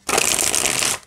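A deck of linen-finish tarot cards riffled in one quick, continuous burst of dense crisp flutter, close and loud, lasting about a second with no talking.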